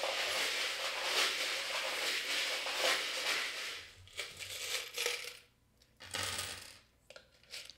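Tarot cards being shuffled by hand, a dense papery riffling and rustling that runs steadily at first, then breaks into shorter bursts with brief pauses between them.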